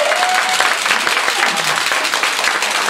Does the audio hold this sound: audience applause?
yes